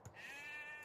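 A single sheep bleats in the strategy game Age of Empires 2: one short, wavering, fairly faint bleat of under a second, heard alone.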